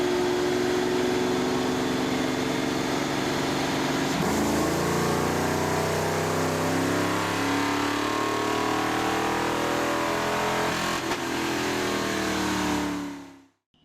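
A Ford Mustang with a turbocharged four-cylinder engine runs on a Dynojet roller dyno, droning loud and steady, then its pitch climbs sharply as the revs build, before cutting off abruptly at the end.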